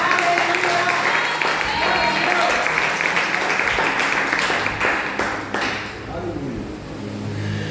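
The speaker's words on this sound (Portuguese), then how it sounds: "Aplauda o Senhor Jesus, igreja." A church congregation at a family worship service applauds together, a loud sustained clatter of many hands that thins out and fades toward the end, with voices mixed in.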